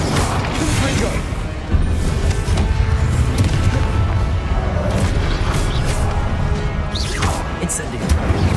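Confringo blasting spell explosions in Hogwarts Legacy, a dense, loud continuous wash of booms and crashes with a sharp surge near two seconds, mixed with busy combat noise.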